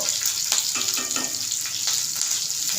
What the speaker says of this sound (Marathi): चांगलं हे कडकडू द्यायचे